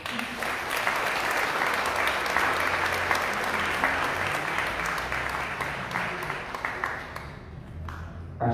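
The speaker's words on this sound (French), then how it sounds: "je vous invite à les applaudir" Congregation at a Sunday 6 a.m. Mass applauds the choir, a sustained dense clapping that holds steady for several seconds and then thins out near the end.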